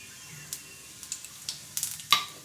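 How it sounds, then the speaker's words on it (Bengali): Panch phoron seeds and dried red chillies crackle in hot oil in a kadhai (wok), with soft frying under scattered sharp pops that build to a louder burst near the end. No one speaks. "কড়াই তেল দিয়েছি এবার পাঁচ ফোড়ন আর শুকনো লঙ্কা ফোড়নে দিয়ে দিচ্ছি"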